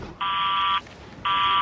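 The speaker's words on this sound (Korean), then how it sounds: "갑작스런 경보가 울리는 일본" An early warning alarm for Godzilla sounds in Japan: two loud, harsh electronic buzzer blasts, the first long and the second starting after a short gap, over faint background noise.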